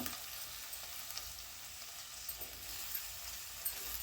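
Eggplant and mixed vegetables for a Chettinad-style sambar rice sautéing in oil, a steady soft sizzle with occasional faint stirring scrapes, fairly quiet and with no talking.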